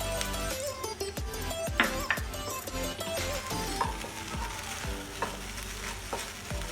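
Chopped okra sizzles and fries in oil in a pan for a bengali palya, a steady crackling hiss broken by repeated scraping and clinking as it is stirred, close and fairly loud throughout.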